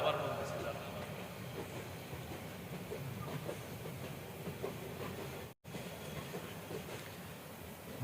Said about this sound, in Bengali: ট্রেনটা ডিস্টার্ব করলো হ্যাঁ।